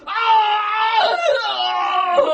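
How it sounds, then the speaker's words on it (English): Terrible screams ring out through the darkness as an audiobook sound effect: a loud, sustained, wavering scream with a strained, harsh edge that rises and falls without a break. "We heard some more terrible screams."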